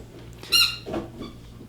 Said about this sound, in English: Now she's squeaking her toy.